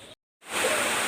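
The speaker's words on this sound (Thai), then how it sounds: "มืดฟ้ามืดฝนฝนกระตกพี่น้อง" A dense, steady hiss of heavy rain drops out for a moment, then returns loud and even.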